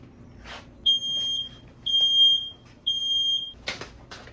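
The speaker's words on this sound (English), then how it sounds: "that did in fact set my fire alarm off" A smoke alarm sounds three long, piercing electronic beeps with short gaps between them, loud and close, followed by a brief rustle.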